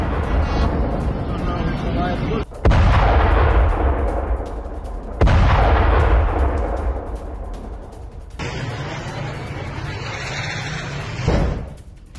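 Heavy booming blasts from Israeli bombing in Yemen, near Hudaydah, with deep rumbling roars, several in succession, loud and distant-sounding, over a constant low rumble.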